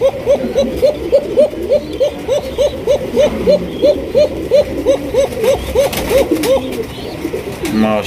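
A pigeon coos close by in a rapid, regular run of about twenty repeated low calls, loud and rhythmic, with faint background noise and a few scattered other sounds near the end.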